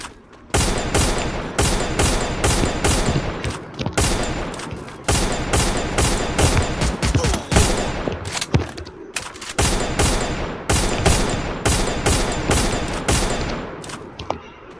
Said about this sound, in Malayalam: അവിടെ ഒരു ഗൺ ഫയർ നടക്കുന്നുണ്ട്.